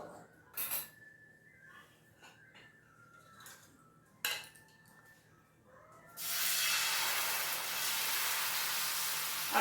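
Wheat flour dosa batter hits a hot oiled pan and breaks into a loud, steady sizzle that fills the second half, after a few light clanks of utensils over quiet room noise.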